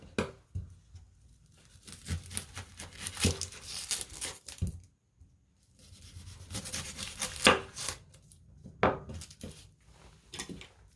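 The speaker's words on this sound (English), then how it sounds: "First, we need to cut the ends of these 2 parts." A knife chops the ends off onions on a board, with sharp, close cuts and crinkly rustles of onion skin coming in two bursts separated by a brief pause.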